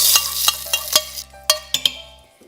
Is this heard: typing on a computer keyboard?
no